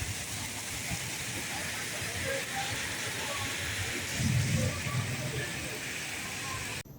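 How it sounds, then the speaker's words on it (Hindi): Heavy rain and hail pour down on a road in a steady, dense hiss, with muffled voices briefly audible beneath it. "ये इचरे की रोड और यहाँ पे बारिश और ओले ही ओले"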